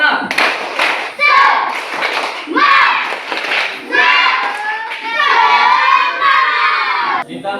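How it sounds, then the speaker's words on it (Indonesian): A classroom of children performs the 'tepuk semangat' spirit clap chant, loud shouted syllables in bursts punctuated by sharp group clapping, with a teacher-led rhythm of several phrases. "kita tepuk semangat terlebih dahulu"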